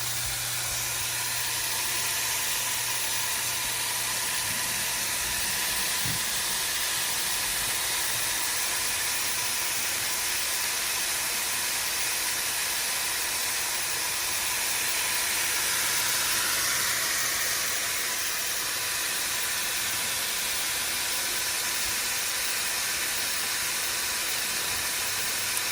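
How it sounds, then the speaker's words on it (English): Bacon rendering in a pan for spaghetti carbonara gives a steady, broad hissing sizzle that holds evenly throughout, with no voices over it. "while the bacon is cooking and rendering away"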